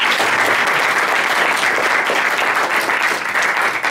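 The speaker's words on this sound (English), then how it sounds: "Round of applause here." An audience gives a round of applause, with dense, steady clapping from many hands throughout and no voices standing out.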